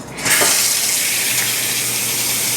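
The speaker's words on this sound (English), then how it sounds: "now we get the hot water going." Hot water gushes from a kitchen tap into a pan, starting abruptly after a brief quiet moment and then running as a loud, steady, close hiss of splashing water without voices.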